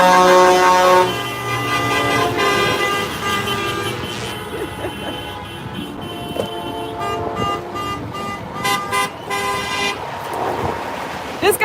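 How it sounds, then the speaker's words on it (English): Car and truck horns honking repeatedly at a convoy protest, with loud sustained blasts and shorter toots overlapping, some near and some farther off, while voices talk faintly underneath. "honking. I've become so accustomed to it."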